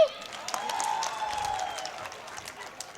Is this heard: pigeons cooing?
no